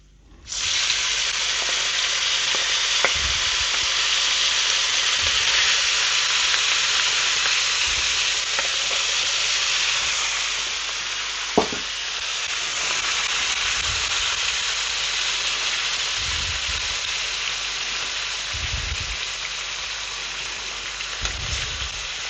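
Bacon sizzles and fries steadily in a pot for a stuffed cabbage dish, a dense continuous crackle with a few louder pops and soft knocks of stirring, no voices over it.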